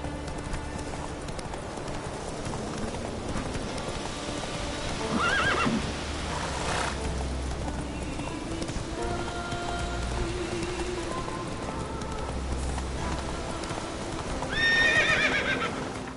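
Roach the horse neighs and its hooves clip-clop in the Witcher 3 video game, with steady hoofbeats under rain-like ambience and loud whinnies near the middle and again near the end.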